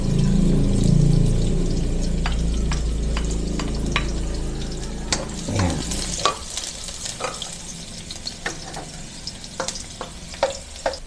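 Onion and garlic frying in a pan, a loud close sizzle that fades after a few seconds into a quieter hiss, punctuated by sharp clinks and scrapes of a stirring utensil.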